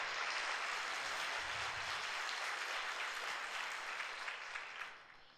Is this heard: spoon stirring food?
no